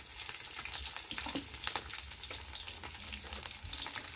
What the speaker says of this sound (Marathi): तर आता फोडणी द्यायला घेऊ कढीपत्ता टाकला आहे मिरची आणि लसूण